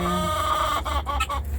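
Clucking chickens mixed with guinea fowl calls, a continuous close flock chatter with a few sharper calls near the end, no speech.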